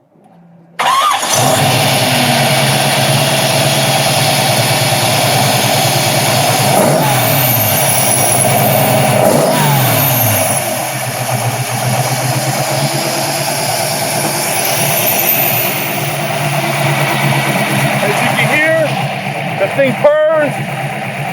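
A Chevy V8 engine in a modified Porsche 928 with an aftermarket exhaust turns over and settles into a loud, steady idle with a deep exhaust rumble that carries on throughout, briefly revving near the end.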